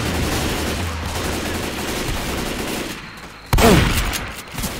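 Gunfire in the zombie shooter game Left 4 Dead 2, a dense rattle of rapid shots for several seconds, then one loud, sharp blast followed by a short falling tone, close and with no talking.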